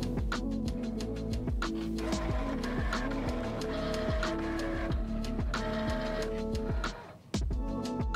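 A Momento electronic cutting machine cutting heat transfer vinyl gives off rapid whirring motor runs and repeated ticking clicks, rhythmic and close, with a short pause near the end before it resumes.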